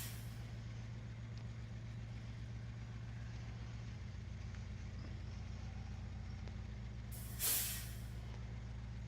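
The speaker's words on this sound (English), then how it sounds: "Those air brakes are loud." Truck air brakes in the video game Farming Simulator, a low engine rumble throughout ending in one short, sharp burst of hissing air release.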